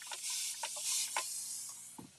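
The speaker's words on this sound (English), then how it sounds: "watch what happens when I spray it." Short hissing spray bursts from a spray bottle misting fabric during a fall DIY craft project using decoupage and velvet powder, several quick spritzes in close succession, near and fairly quiet, with no talking.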